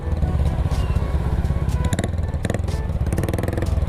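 Motorcycles turning back at a flooded road, their engines chugging and revving steadily close by with clattering, a dense continuous engine drone throughout.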